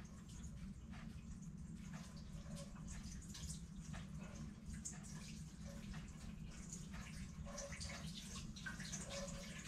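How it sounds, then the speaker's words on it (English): Water drips and trickles steadily from yarn gently squeezed out of an avocado dye bath, a close, continuous wet patter with small splashes and no talking. "I'm just gonna just gently squeeze it out"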